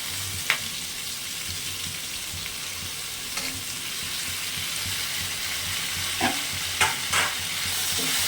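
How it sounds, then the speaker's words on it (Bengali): Ivy gourd greens go into a pan of frying potato and pumpkin stems, sizzling steadily in oil with occasional clicks of stirring. "আলু কুমড়ো ডাটাটা ভাজা ভাজা হয়েছে এবার তেলাকুচু শাকটা দিয়ে দিচ্ছি"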